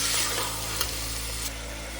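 About 500 grams of mutton frying in a pan for a quick mutton curry, giving a steady broadband sizzle with a couple of faint clicks and no talking.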